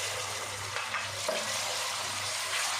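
Ginger garlic paste frying with sautéed onions in a pot for shaljam gosht mutton curry, a steady, fairly quiet hiss and sizzle with occasional soft stirring scrapes.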